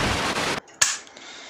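A Saiga 12 shotgun fires a loud blast, then after a brief silence its bolt locks back on the empty magazine with a single sharp metallic clack.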